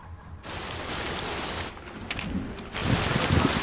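Heavy rain pours in a film scene, a dense steady hiss with no gaps that swells louder toward the end, alone with no voices.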